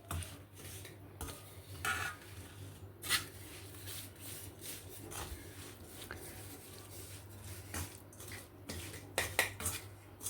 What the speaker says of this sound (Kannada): ಒಗ್ಗರಣೆ ಎಲ್ಲ ಚೆನ್ನಾಗಿ ಮಿಕ್ಸ್ ಮಾಡ್ಕೊಳ್ಳೋಣ